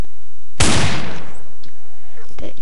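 Revolver from a Minecraft mod fires one loud, sharp shot that rings out and decays, followed by a couple of faint, brief clicks and thuds.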